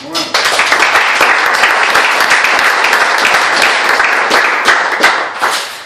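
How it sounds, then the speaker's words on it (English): A church crowd bursts into sustained applause, dense clapping that holds steady for several seconds before tapering slightly at the end. "We should do a round of applause for him."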